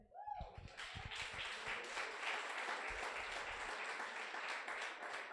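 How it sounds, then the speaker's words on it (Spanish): A church congregation breaks into applause, dense clapping building quickly after a brief moment and holding steady at a moderate distance, filling the room with no talking. "Denle un aplauso al Señor, hermano."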